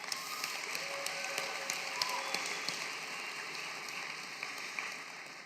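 A graduation ceremony audience applauds in a steady, dense patter of clapping that sounds somewhat distant and fairly quiet, holding evenly before easing slightly at the end.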